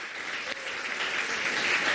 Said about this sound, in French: On peut applaudir pour ça.